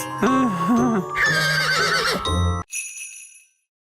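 A cartoon unicorn neighs in a loud, close, wavering whinny that breaks into several pitched bursts, then stops abruptly, followed by a brief bright tinkling tail that fades to silence.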